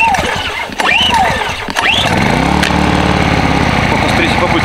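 Portable power generator engine, carried on a quad bike for winter fishing in Karelia, cranking and then catching into a steady loud drone, with speech and chirpy sounds over the start.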